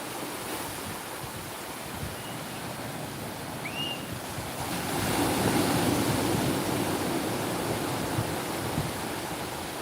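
The incoming tide washes over seaside steps as they go underwater, a steady, wide rush of surf that swells louder midway, with light wind on the microphone and no talking.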